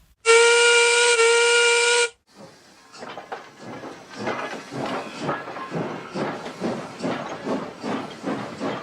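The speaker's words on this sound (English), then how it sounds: "the guard blew his whistle and waved his green flag, Duncan was ready to leave" A steam engine named Duncan gives one loud, steady whistle blast of about two seconds as the guard signals departure, then slow rhythmic chuffing and hissing build as the train pulls away.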